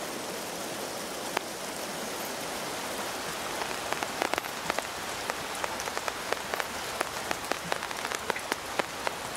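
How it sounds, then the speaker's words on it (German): Steady rain falls on a surface, a dense wash of hiss broken by many sharp, close drop impacts growing busier in the second half, with no voices. "Der Regen als Schöpfer."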